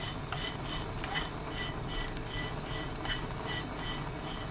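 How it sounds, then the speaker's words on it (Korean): Small dried anchovies being stir-fried in a preheated pan over high heat, producing a steady, rhythmic scraping and rustling as they are stirred, close and alone. "예열된 팬에 잔멸치 100g 넣고 센 불로 2분 볶습니다"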